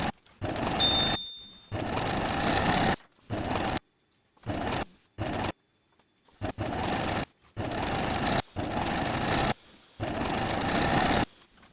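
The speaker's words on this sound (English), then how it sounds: "Sew the upper and lower hems of the piece with a straight stitch." A sewing machine runs straight stitches along the upper and lower hems of a boho dress piece, a steady whirring hum in several bursts of a second or two, separated by short silent pauses.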